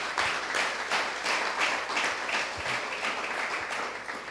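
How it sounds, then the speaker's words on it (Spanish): A congregation at a Spanish-language religious teaching claps together in a sustained, even burst of applause, filling the room for several seconds. "¿Cuántos le aplauden al Eterno?"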